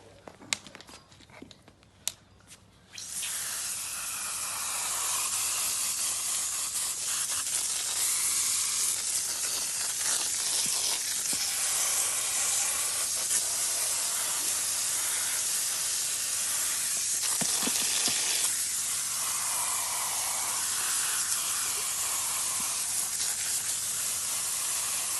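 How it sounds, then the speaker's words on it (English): Water from a hose sprays steadily onto a pool pump basket, a continuous close hissing wash that runs for most of the stretch with a brief break near the end. "So just give the pump basket a good hose out."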